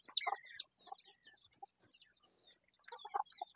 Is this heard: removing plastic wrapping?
no